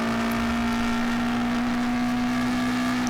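A motorcycle accelerates hard after merging, its engine droning loud and steady with a sustained whine as it pulls through the gear, no voices over it.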